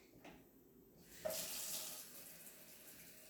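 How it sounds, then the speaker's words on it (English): Hot water poured from a tap into a half teaspoon of baking soda for vegan chocolate chip walnut cookies, a soft close splash that starts abruptly and then runs as a steady trickle. "Take your baking soda and mix some hot water in it."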